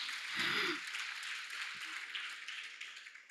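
Broad, steady applause from an audience at a spiritual talk on karma, a dense wash of clapping that carries on for several seconds with a brief deeper sound near the start.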